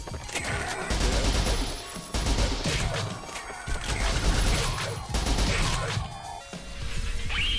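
Shotgun blasts in the video game Captain Wayne: a string of loud, crunching impacts in bursts across the clip, with busy game sounds layered over the shots.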